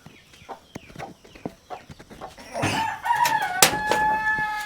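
Chickens cluck in short, scattered bursts on a home farm before a nearby rooster crows loudly, with more fowl calling over the top.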